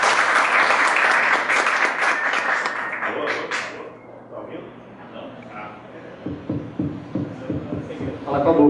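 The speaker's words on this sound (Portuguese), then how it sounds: "vocês recebam aqui com uma salva de palmas Marcelo Macedo" Dense applause from an event audience welcoming Marcelo Macedo to the stage builds loud then tapers off, followed by a quieter stretch and a few scattered claps and taps near the end.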